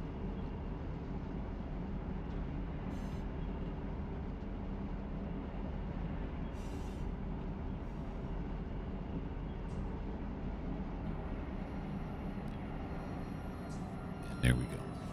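A steady low rumble of a train rolling past in the video game Run 8 Train Simulator III, continuous and fairly loud, with a brief sharp click near the end.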